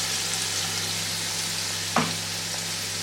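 Ground onion, curry leaves and ginger-garlic paste fry in hot oil over high flame, giving a steady, fairly loud sizzle with one brief stir or scrape partway through. No one speaks.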